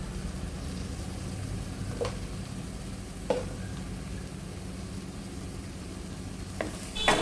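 Turmeric and garam masala powders stirred into hot oil in a pan for a ridge gourd chilli curry, giving a quiet, steady sizzle with a few soft scrapes of the spoon.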